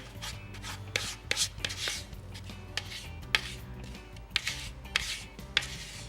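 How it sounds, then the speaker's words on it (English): Batter being folded by hand in a bowl, heard as repeated soft scraping and swishing strokes at an uneven rhythm, fairly quiet and close, without talk. "I'm being really careful not over mixing it at all"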